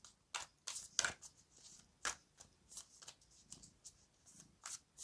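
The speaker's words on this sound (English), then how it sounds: "sometimes shuffling takes a while" Playing cards being shuffled by hand, a series of quick crisp riffles and soft slaps in an uneven rhythm, close and fairly quiet with no voices.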